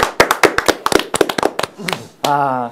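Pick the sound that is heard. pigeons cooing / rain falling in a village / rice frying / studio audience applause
studio audience applause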